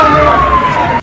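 A fire brigade siren wails as the trucks reach a blaze set off by an exploding gas cylinder at a Delhi shop, a loud, steady tone sliding slowly downward before cutting off abruptly.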